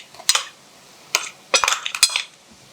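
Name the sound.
spoon mixing ground masala paste into frying onions in a pan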